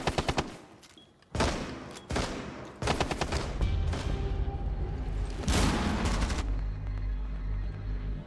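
Rapid bursts of gunfire from a video game shooter, loud and close, with several sharp volleys, sustained automatic fire and booming impacts running through the whole stretch, no talk over it.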